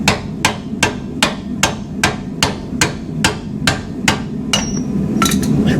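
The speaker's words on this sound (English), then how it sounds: "we're going to put it in through the back, and we're going to smack the bolt out" A hammer strikes a punch to drive a bolt out of a trailer leaf spring, about a dozen sharp metallic blows at a steady rhythm, close and loud, with a brief clatter at the end.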